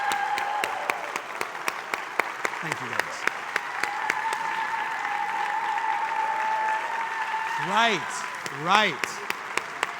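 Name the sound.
audience applause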